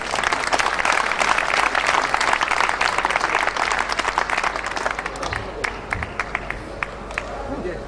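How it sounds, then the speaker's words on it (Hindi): An audience at a Golden Jubilee celebration of a chamber of textile trade and industry claps loudly and densely, then thins into scattered claps while a voice speaks. "तालियां जरा जोर से बजाएं।"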